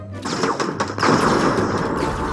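Gunfire in the video game Fortnite, a loud burst of rapid shots close up that carries into a dense crackling flurry.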